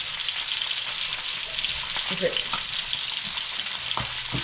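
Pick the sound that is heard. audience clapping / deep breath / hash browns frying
hash browns frying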